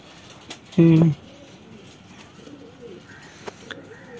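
A single short coo from a King pigeon sounds close by, low and throaty, over faint background murmur and a few soft taps.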